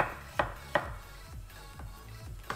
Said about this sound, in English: So we're just chopping our potatoes quite small, guys, because we want it to cook quite fast.